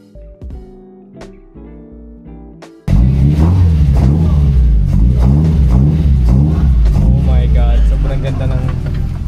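Toyota Levin 2000 with a 4AGE engine revving loudly and close, repeated throttle blips rising and falling over several seconds after a quieter idle, with voices talking briefly at the start.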